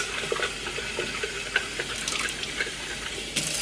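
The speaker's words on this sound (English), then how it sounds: "You just dump it, and I rinse it like 3-4 times." Water runs and splashes as a jar of sprouts is rinsed under a tap and refilled, a steady near flow with small clinks and gurgles, no talking.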